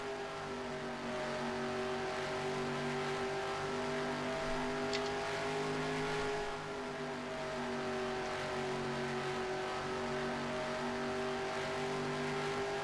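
A race car engine drones steadily from the onboard view in NASCAR Racing 2003 at Indianapolis Motor Speedway, a loud sustained harmonic whine that rises and falls slightly through the lap, with no talking.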